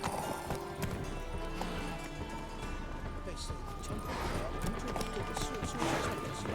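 Roach, Geralt's horse in The Witcher 3, gallops with rapid, close hoofbeats under steady game ambience and some talk.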